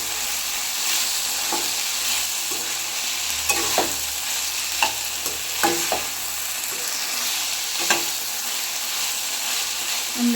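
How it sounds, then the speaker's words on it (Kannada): Okra frying in hot oil, a steady close sizzle with scattered soft clinks and scrapes as it is stirred every second or two; moderately loud, with no voices. "ಹುರಿದಿಟ್ಟಿರೋಂಥ ಬೆಂಡೆಕಾಯಿ ಕ್ಲೀನಾಗಿ ಒಂದು 2ರಿಂದ 3 ನಿಮಿಷ ಈ ಥರ ಎಣ್ಣೆಲಿಕ್ಕೆ ಕಾಯಿಸ್ತೀವಿ"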